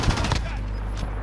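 Gunfire from a PlayStation 4 shooter video game: a quick burst of sharp shots at the start, with a steady low game drone continuing underneath.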